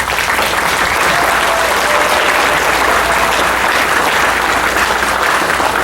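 A gala audience at a fundraising dinner applauds the executive board and directors, a dense, loud, continuous round of clapping filling the room with no voices over it.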